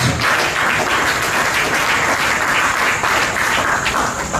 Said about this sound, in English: please clap for our dynamic players